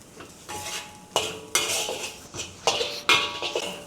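Mushrooms sautéed with garlic in a pan over medium-high heat, with a utensil scraping and clinking against the pan in repeated bursts of stirring, close and fairly loud with no talking.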